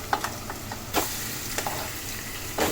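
Fish pieces frying in a pan, a loud steady crackling sizzle throughout with a few brief scraping stirs.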